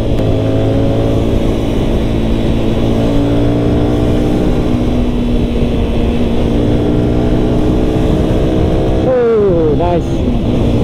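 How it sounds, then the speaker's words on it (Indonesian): A 2022 GPX Demon GR200R SE 200cc motorcycle at full throttle on a Malaysian road: a loud, steady engine drone climbing in pitch with wind rush, then a brief dip and rise like a gear change near the end. "Kita try bagi full throttle tengok macam mana."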